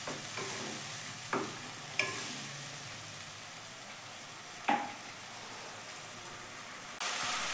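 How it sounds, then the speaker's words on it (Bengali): Spice paste for a fish stew, with salt and a splash of water, frying in a pan, giving a steady soft sizzle with a few sharp clinks of a spatula scraping and stirring, close and quiet, no talk. "আর একটু জল দিয়ে এই মশলাটা আরেকটু ভালো করে কষবো"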